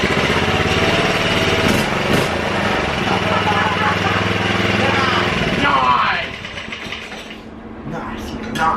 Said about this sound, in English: That's what you call a lawnmower.